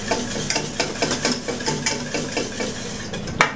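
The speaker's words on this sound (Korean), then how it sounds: "페퍼로 저어줍니다." A spatula stirs a thickened, chilled cream base while folding in fresh cream and meringue for ice cream, giving a steady run of soft scraping and clinking strokes up close, with one sharper knock near the end.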